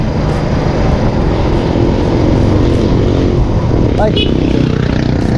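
A motorcycle engine freshly changed with new oil runs continuously, a close, loud, steady buzzing drone; a person briefly speaks over it near the end.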